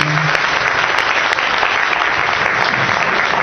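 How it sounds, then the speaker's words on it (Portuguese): Loud, dense round of clapping from a group at the close of a Brazilian exchange-program gathering, continuous and close, with no talk over it. "uma salva de palmas"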